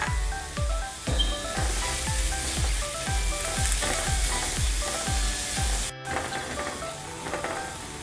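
Onion and ginger-garlic paste fry in a pan, with a lively continuous sizzle and steady rhythmic stirring strokes close by, broken by a brief gap near the end.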